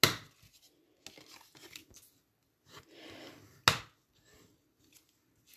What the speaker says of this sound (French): J'utilise un plioir. Pour bien écraser tous les plis.